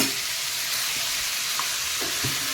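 Garlic and tomato for a quick tomato chutney fry in a pan over a gas flame, giving a steady broad sizzle with a few soft knocks of a spoon, close and even, with no one speaking.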